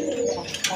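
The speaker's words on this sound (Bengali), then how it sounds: "ডান পাশেরটা হচ্ছে মাদি কবুতর, বামেরটা হচ্ছে আপনার নট কবুতর" Pigeons cooing in a loft, a male and female racer pair, heard as a short close murmuring coo with a brief brighter call near the end, no voices.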